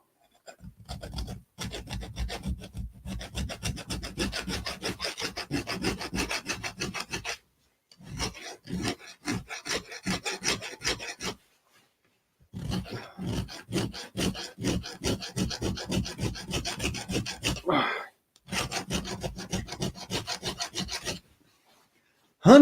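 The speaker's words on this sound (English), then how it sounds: "all I got's a file, a stone, and sandpaper" Hand file rasping in steady rhythmic strokes, made with only a file, stone and sandpaper on hand, in three long bursts separated by short pauses, close and fairly loud with no talk.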